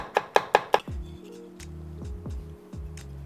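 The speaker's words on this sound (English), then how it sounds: "Now I just want slices of garlic." A knife cuts garlic into slices on a cutting board with four quick, crisp taps in a row, then a few softer, spaced knocks over a low background hum.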